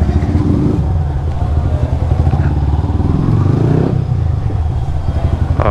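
A Yamaha R15 v3 motorcycle engine runs steadily and loud up close as the bike pulls away, with clattering mechanical noise and a rise in revs partway through.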